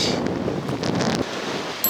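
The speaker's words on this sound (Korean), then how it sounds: "바람이 너무 심합니다" Strong wind roars steadily over the sea during rock bream fishing off the coast, a dense, loud, buffeting rush with a slight drop in force near the end and no voices.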